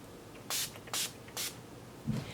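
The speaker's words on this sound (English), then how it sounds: "I'm gonna go ahead and spray the finishing spray." Three quick hissing bursts of a spray bottle, evenly spaced, close up in a quiet room, followed by a soft thump.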